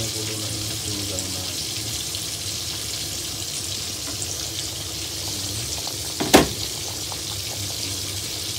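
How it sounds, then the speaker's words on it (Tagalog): Sinigang soup with tanigue fish, shrimp and kangkong boils in a covered pot, giving a steady, close hiss of bubbling with one brief sharp clatter near the end. "kumukulo na yung dinigang"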